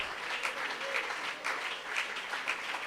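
A church congregation applauds during a sermon, a steady wash of clapping from many hands with rhythmic swells, fairly close and filling the space on its own.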